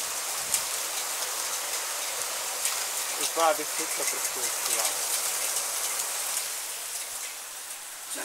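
Heavy rain and hail pour in a dense, constant hiss during a storm in Prague, with a voice speaking briefly over the downpour.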